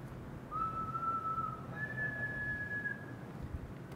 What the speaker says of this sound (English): we'll see how bad my whistling is here